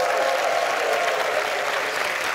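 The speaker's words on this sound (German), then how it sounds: "Macht bitte einen großen Applaus, auch bei Ihnen zu Hause" A studio audience at a German cabaret show claps steadily and loudly, a dense, even wash of applause for a performer with no talk over it.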